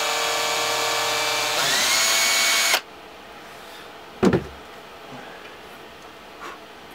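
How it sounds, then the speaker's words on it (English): A power drill bores a small pilot hole for a screw, a steady loud whine that ramps up in pitch for about three seconds and then stops abruptly, followed by a brief knock and quiet room tone. "Just put a tiny little pilot hole."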